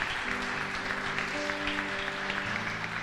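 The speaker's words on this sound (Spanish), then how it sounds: "¿Cuántos dan un aplauso a la palabra de Dios?" Steady applause from a church congregation fills the space, a continuous patter of clapping with sustained organ or keyboard tones underneath.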